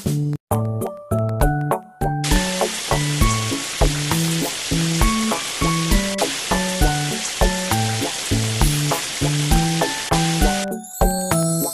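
Water sprays in a children's environmental cleanup game where a lake is cleared of trash: a steady, bright hiss of washing water runs for about eight seconds beneath a bouncy, plinking game melody.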